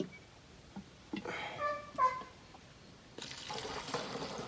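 Diesel fuel gurgles and trickles from a full canister into the tank of a Dongfeng 254 tractor, a short, uneven liquid pour with a few splashy bursts, then a steadier broadband rush toward the end.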